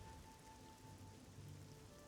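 Rain falls in The Elder Scrolls IV: Oblivion, a soft, even hiss of drops pattering on surfaces, faint and continuous with no voices.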